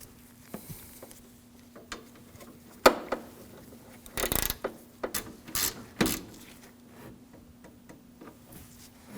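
Ratchet tightening a 10 mm AC condenser fitting on a 2013-2015 Subaru XV, heard as a few separate clicking bursts and ratchet rattles spread across the clip, close up and fairly quiet, with no talking.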